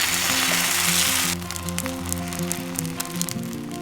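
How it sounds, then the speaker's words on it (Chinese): An egg roll wrapped around rice sizzling as it fries in a pan, loud crackling sizzle at first that drops to a quieter, steady spitting hiss with scattered pops, over gentle background music. "推到锅边再煎一会儿定型就可以了"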